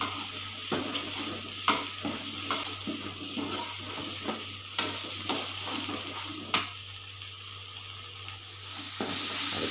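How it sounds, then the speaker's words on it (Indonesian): Spice paste for Balinese ayam betutu sautéing in a pan, a steady close sizzle broken by repeated scrapes and clacks of a utensil stirring, with no talking. "Kita tumis sampai matang,"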